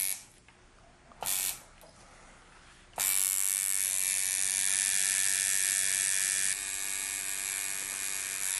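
A tattoo machine buzzes loudly and steadily after a couple of brief starts, settling into a continuous high-pitched electric whine that drops slightly in level near the end.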